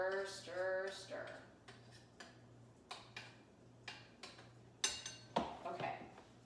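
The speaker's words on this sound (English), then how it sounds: "Stir, stir, stir." A spoon stirs a sugar-free chocolate mixture with cream and butter in a pot, producing a series of light, regular clinks and scrapes against the metal, with brief talk early on.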